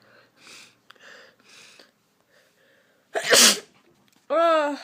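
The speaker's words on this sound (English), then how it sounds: "Have you like ever sneezed, yeah, and it just like smashes your head open?" A single forceful sneeze bursts out loudly midway, after some quiet breathing and sniffles, followed by a voice reacting.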